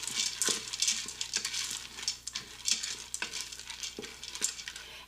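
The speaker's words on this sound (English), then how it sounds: "Go ahead and give those a stir, just to mix it all together." Black beans are stirred in an Instant Pot, with a spoon scraping and clicking against the pot in irregular strokes over a soft background sizzle, close and fairly quiet, with no talking.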